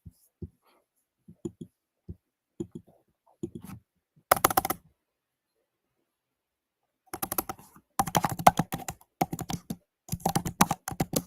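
Keys click on a computer keyboard in scattered single taps, then in quicker dense bursts of typing, with soft whispered speech mixed in.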